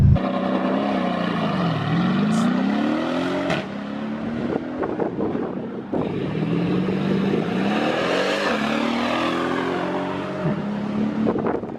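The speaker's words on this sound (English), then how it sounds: "we've got to test that and show you guys how hard this car launches" A 600 hp 2015 Mercedes E63S AMG launches under launch control, its engine note rising sharply through the gears with audible dips at each shift, loud and close inside the cabin, pulling continuously for about twelve seconds.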